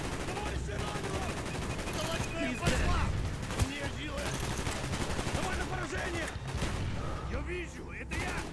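Dense gunfire from the Call of Duty Black Ops video game: rapid automatic bursts and overlapping shots crackle without pause, with a few heavier thumps standing out, loud and continuous throughout.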